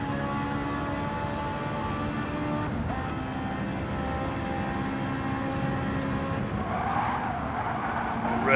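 Race car engines and tyres at a chicane on a circuit, a steady droning whine of several cars with a rising squeal and scrub as tyres are pushed hard through the corner near the end.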